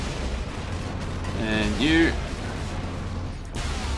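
Lascannon fire in the Space Marine video game, heard as heavy low rumbling blasts that continue throughout, with a brief spoken voice over the middle.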